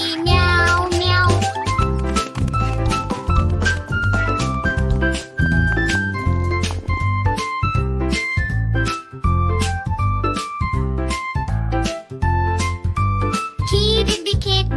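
A sung children's tune with a melody mimicking a cat's meow, backed by steady rhythmic music throughout.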